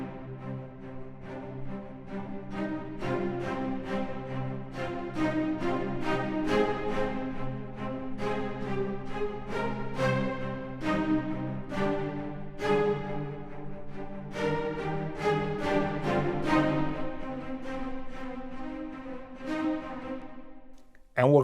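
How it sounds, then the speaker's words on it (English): Cellos and violas from a Hans Zimmer string library by Spitfire Audio play together in a sustained, rhythmic film-score passage, steady and full, alone without talk until a brief cut at the end. "The cellos and the violas together sound like this."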